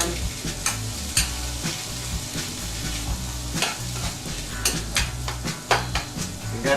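Green chilies, diced white onion and fresh garlic sizzle in olive oil in a pan for posole, a loud close crackle broken by the clatter of stirring, with no one talking.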